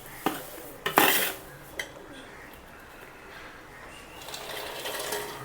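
Semolina roasts in a pan with dry fruits and banana, opening with a few sharp metal utensil clanks against the pan, then quieter scraping and stirring that swells slightly toward the end.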